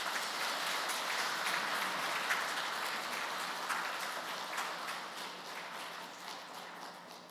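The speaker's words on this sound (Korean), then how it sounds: "큰 박수로서 환영해 주시기 바랍니다" A church congregation applauds in welcome as a hospice nursing director steps up for a Lenten lecture, a dense, fairly distant wash of many hands clapping steadily and slowly fading over several seconds.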